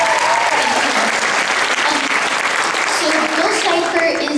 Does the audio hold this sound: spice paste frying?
no